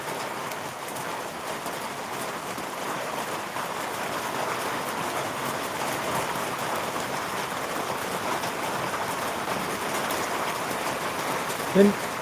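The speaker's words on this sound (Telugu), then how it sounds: "ఇదే వర్షం అనుకుంటా" Steady rain falls in a dense, even hiss on surfaces, continuous and fairly close, with a faint voice under it.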